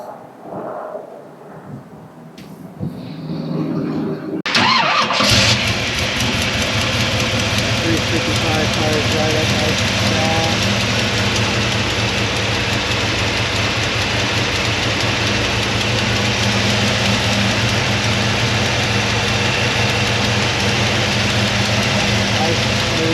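After some faint rustling, a modified 355 small-block V8 in a 1951 Chevrolet 3100 hot rod pickup cranks and catches, then settles into a loud, steady, rumbling idle that continues throughout.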